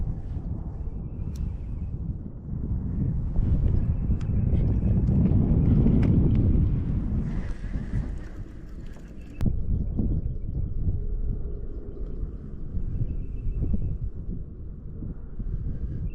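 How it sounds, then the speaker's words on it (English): Gusty wind rumbles and buffets the microphone for the whole stretch, swelling louder in the middle, with no talking. "It's a windy day. And the wind's blowing my way."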